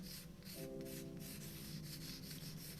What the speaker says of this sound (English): I'm doing the shadows with the fingers, just rubbing it in like that